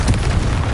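A Confringo fire spell exploding in Hogwarts Legacy, a loud, deep, roaring boom that fills the whole brief moment.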